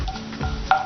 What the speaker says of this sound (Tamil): சோம்பு பொரிஞ்சிருக்கு.